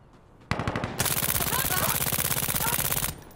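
AS Val rifle in Insurgency Sandstorm firing rapid automatic bursts, a fast even rattle of close shots after an opening burst, sustained for a few seconds before stopping.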